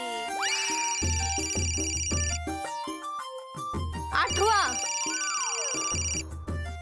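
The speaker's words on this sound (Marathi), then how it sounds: "अगं किती वाजतोय तो फोन, उचल तरी" A telephone rings in repeated electronic bursts, loud and close, with a person speaking briefly between the rings.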